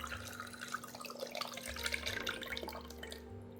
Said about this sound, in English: We're going to go ahead and add back in that marinade that we already had the ribs in.